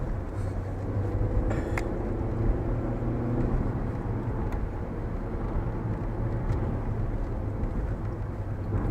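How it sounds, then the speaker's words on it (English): A Vauxhall Astra J engine growls at low revs during a test drive at Millbrook, a steady low rumble from inside the car with a few faint clicks and knocks over it. "You can really hear it sort of just growling in the background, ready to be opened up."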